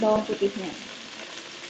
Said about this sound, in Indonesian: Kita masukin bawang putih yang udah dicincang.